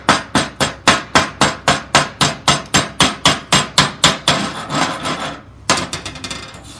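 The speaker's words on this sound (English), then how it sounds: "So now that I've got that, I can just chip it off." A chipping hammer strikes slag off a fresh lap weld on steel plate, about eighteen sharp, evenly spaced metallic knocks in quick succession, loud and close, then a brief scraping rasp.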